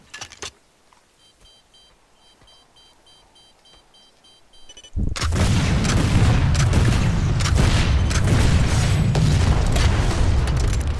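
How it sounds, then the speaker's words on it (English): In Planetside 2, rocket launcher shots strike the rear armor of a Vanguard tank: quiet game beeps give way to a sudden loud blast and a dense, sustained roar of explosions and battle noise. "And then I'll do rear armor shots against Vanguard"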